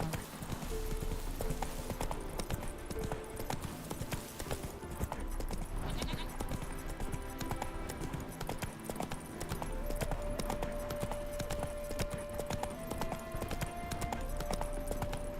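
Hooves of Geralt's horse Roach galloping in The Witcher 3: Wild Hunt, a steady, fast clip-clop rhythm that runs throughout under faint game music, with no pauses.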